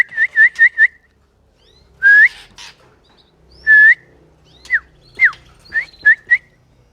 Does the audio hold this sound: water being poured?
no